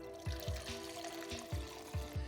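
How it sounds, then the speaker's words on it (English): Coffee poured into a blender bottle, a steady liquid stream trickling and splashing with a few soft repeated low thuds, close and fairly quiet, no talking. "You're gonna pour your coffee right into the blender bottle."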